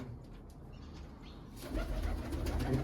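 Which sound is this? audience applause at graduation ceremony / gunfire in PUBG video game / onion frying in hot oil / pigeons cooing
pigeons cooing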